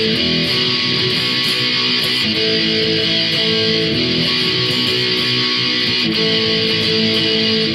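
A loud, distorted electric guitar plays the chorus of a song as a dense, sustained wall of chords, steady and close, with no talking.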